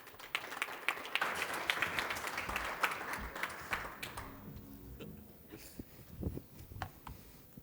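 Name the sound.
audience applause welcoming panel speaker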